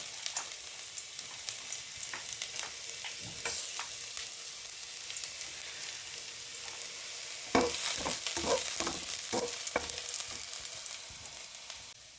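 Garlic sizzling and frying in hot oil in a pan for a Filipino coconut chicken curry, a steady broadband crackle with a sharper burst of stirring and scraping taps toward the end; no talking.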